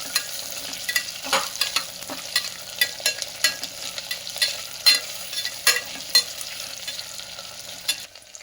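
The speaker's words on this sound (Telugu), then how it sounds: "ఉల్లిపాయలు కొంచెం వేగంగానే దాంట్లో తరిగి పెట్టుకున్న ఆలు వేసేయాలండి." Diced potatoes fry with onions in a hot pan for aloo bath, a steady close sizzle broken by repeated scraping clicks of a spoon stirring them, with no voices.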